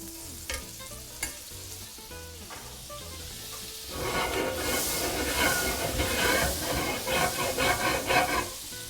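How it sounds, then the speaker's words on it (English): Oil and butter sizzle in a hot pan, a broad steady frying hiss that swells loudly about halfway through and keeps crackling close by, after a quieter stretch with light kitchen clatter and no talking. "we're gonna put some oil and some butter in there"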